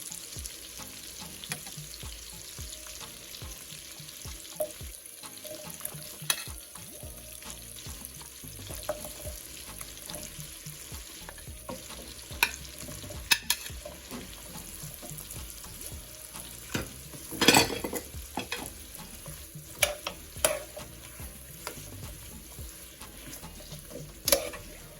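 Vegetables sautéing in a pan for Jamaican steamed fish, with a low, steady sizzle broken by scattered clicks and scrapes of stirring and a louder clatter near the middle, and no voices.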